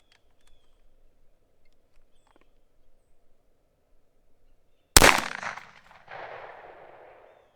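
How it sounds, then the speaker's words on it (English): A single sharp rifle shot from a Foxtrot Mike FM45 build fires after several quiet seconds, a loud close crack followed by a decaying outdoor echo. "5 more rounds out of the ETS magazine."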